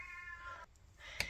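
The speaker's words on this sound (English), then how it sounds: "That is my cat screaming in the background," A Siamese cat yowls faintly in the background, a thin drawn-out cry followed by a brief, sharper call against a quiet room hum.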